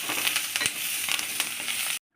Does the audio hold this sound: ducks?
no